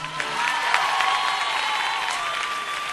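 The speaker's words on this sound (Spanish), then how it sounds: "me gustaría darles yo a ellos un aplauso enorme" A concert audience gives a big round of applause for a band, sustained loud crowd clapping mixed with cheers and whistles that holds steady throughout.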